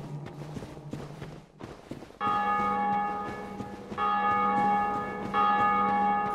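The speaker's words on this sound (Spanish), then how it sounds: "Se oyen las campanas" Church bells ringing in the Dark Souls Remastered video game, a sustained chiming peal that starts after a stretch of quieter footsteps and ambience, fairly loud and swelling in repeated waves with no talk over it.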